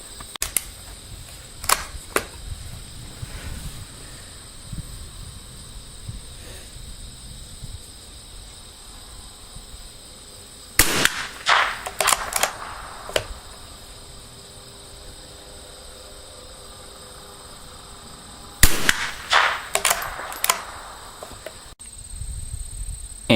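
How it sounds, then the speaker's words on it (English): Ranger .22 long rifle shots fired at a target 50 yards away come as three clusters of sharp, fairly quiet cracks over a steady, insect-like outdoor hum. "show you what kind of grouping I get at 50 yards with the Ranger 22."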